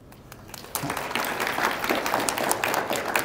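Audience applause welcoming an invited speaker at an organized talk event, a dense patter of clapping that swells after a brief quieter start and holds steady, with faint voices mixed in.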